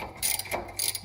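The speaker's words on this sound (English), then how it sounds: "Ratchet extensions are the best thing I have ever purchased." A ratchet with an extension clicks rapidly in two quick runs as bolts are removed on a Miata, close and fairly crisp.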